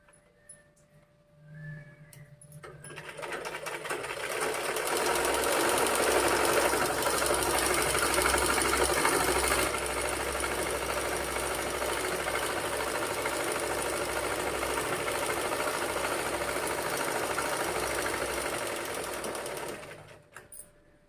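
A sewing machine fitted with a piping foot stitches along a fabric edge, a steady, fairly loud mechanical whir that runs continuously for about seventeen seconds, then stops, with no talking.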